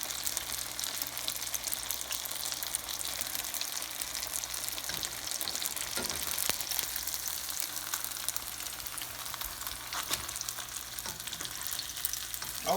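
Mac and cheese buns fry in hot grease with a steady, bright sizzle and crackle, close by, with occasional sharper pops and spatters and no talking over it.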